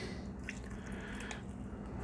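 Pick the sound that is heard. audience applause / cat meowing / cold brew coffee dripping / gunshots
cold brew coffee dripping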